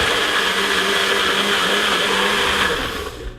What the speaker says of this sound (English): pop this straight into our NutriBullet. Gonna pop the lid on. We're gonna whiz this into a cream.